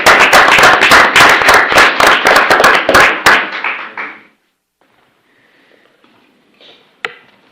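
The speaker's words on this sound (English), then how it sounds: "I think we need to give a big round of applause." Audience applause at a city council meeting: a burst of dense clapping from a seated crowd that tapers off and fades into near silence after a few seconds.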